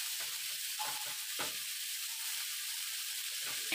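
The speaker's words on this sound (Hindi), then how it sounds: "सरसों का तेल है, उसमें मैंने जखिया का तड़का लगाया है।" Jakhiya seeds tempering in smoking-hot mustard oil give a steady, close sizzle and crackle, with a few sharper pops and spatters over the continuous frying hiss.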